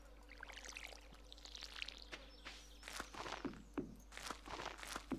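In the Stardew Valley farming game, watering crops with a watering can makes soft splashing pours and short footstep-like crunches over faint ambient game sound, quiet and repeated.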